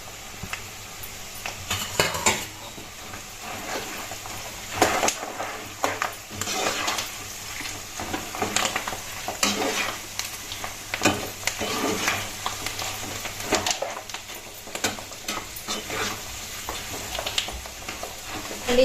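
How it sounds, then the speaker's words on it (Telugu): Onions sizzle in a pan with green chillies and curry leaves while a spoon scrapes and stirs against the metal in irregular clinks over a constant frying hiss. "ఇప్పుడు పచ్చిమిర్చి, కరివేపాకు గోలినాయి కాబట్టి ఉల్లిగడ్డలు అయితే వేస్తున్నాను."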